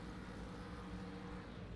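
Boat engines drone steadily and loud at the start of a race, a constant low rumble with no break and no talk.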